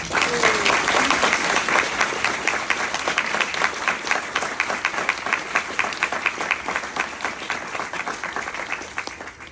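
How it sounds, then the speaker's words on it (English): A library audience in Bayonne applauds George R.R. Martin with a full, even round of clapping from many hands that holds steady before gradually thinning toward the end. "Please join me in a round of applause for George."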